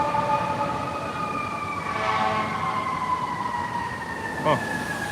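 Fire truck sirens wail steadily along a city street over traffic rumble, with a brief sharp horn-like blast near the end.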